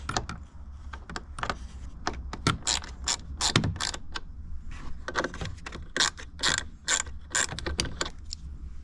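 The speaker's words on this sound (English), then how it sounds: "there are 2 7mm right here, so get those off too as well" A hand ratchet backs out 7mm screws from the center console of a 2014 Ford Mustang GT, giving bursts of rapid close clicking with short pauses between strokes and the occasional scrape of plastic.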